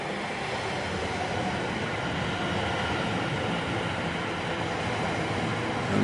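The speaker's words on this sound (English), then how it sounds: "this is a train station sound" Railway train station ambience: a steady, dense rumble of rolling rail traffic runs continuously at a fairly loud level, with no voices standing out.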